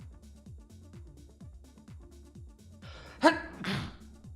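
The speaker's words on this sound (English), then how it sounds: "gonna sneeze in a second too" A single sharp sneeze bursts out near the microphone during a live chess stream, preceded by a quick inhaled gasp, over a steady looping background tune.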